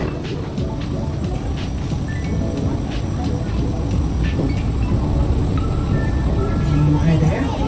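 A train pulls in at a station platform in Hong Kong, a continuous low rumble with faint rail clatter, steady and fairly loud against the busy platform ambience.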